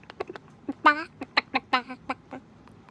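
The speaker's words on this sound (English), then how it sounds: "You hear a chicken for some reason." A chicken clucks in a run of short, sharp, close calls of uneven rhythm, with a couple of longer squawks near the start, set in a quiet outdoor ASMR scene.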